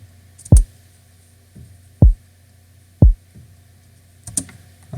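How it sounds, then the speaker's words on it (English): Deep, punchy kick drum hits in a sparse programmed pattern, a few soft thumps between louder ones, played alone without other drums. "So yeah, here's the first kick pattern."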